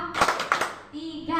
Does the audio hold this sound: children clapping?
yes